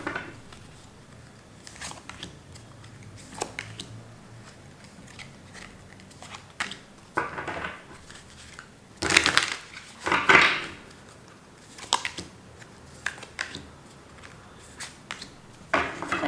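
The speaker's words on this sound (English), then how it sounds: "Like shuffling one more time." Tarot cards shuffled by hand during a reading, giving soft riffling and sliding rustles with a couple of louder, crisper card bursts in the middle, and no voices.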